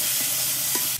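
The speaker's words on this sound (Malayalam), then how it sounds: "ശേഷം ഉള്ളി, തക്കാളി, പച്ചമുളക് ഇട്ടാ ഈ മൂന്ന് ഐറ്റം കൂടി നമ്മൾ ചട്ടി നമ്മുടെ ചെമ്പട്ടിയിലേക്ക് ഒന്ന് ഇട്ട് കൊടുത്തിട്ടുണ്ട്." Onion, tomato and green chilli fry in coconut oil in a pan, giving a steady, loud, close sizzle that runs without a break and drops off right at the end.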